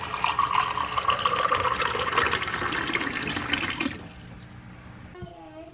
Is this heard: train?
no